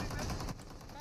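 Bursts of gunfire in a shooter video game, fast repeated shots that are fairly faint and muffled, with voices talking under them.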